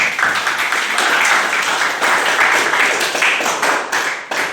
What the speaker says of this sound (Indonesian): kita berikan aplaus pada rekan-rekan